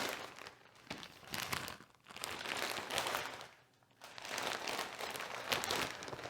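A plastic bag wrapped around a new Mulberry handbag crinkles and rustles in close, irregular bursts as it is unwrapped, with two brief pauses.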